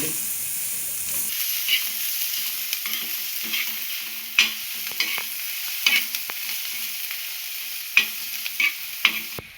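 Chopped onion sizzles steadily in a pan while a spoon stirs it, with repeated scraping clicks and taps over a constant frying hiss, close and fairly loud, no talking.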